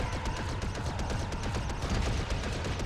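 Rapid blaster gunfire shooting down enemies in the LEGO Star Wars video game, a steady stream of quick repeated shots forming a continuous fusillade at moderate level, with no talk over it.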